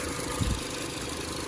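The engine of a 2020 Ford Fusion car idles in a steady, even broadband hum with no talk, close and continuous throughout.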